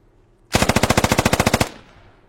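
A video game gun fires one loud, close burst of roughly fifteen rapid, evenly spaced shots. The shots stand alone and cut off sharply, then a short fading tail follows.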